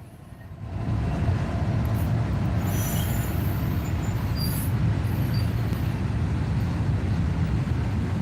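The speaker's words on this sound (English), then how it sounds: "Sorry about the train." A loud train rolls past near a fishing spot, its rumbling roar swelling in after a brief quieter start and then holding steady and heavy, with faint high squeals of the wheels on top.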